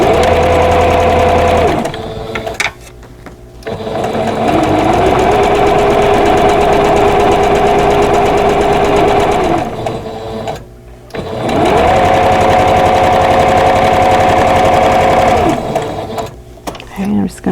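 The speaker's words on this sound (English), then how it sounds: "So we're going to do just some straight line sewing here." A sewing machine stitches straight lines across a quilt block, running loud and steady in long bursts of whirring motor hum that ramp up and down, separated by brief pauses, close up with no talking over the stitching.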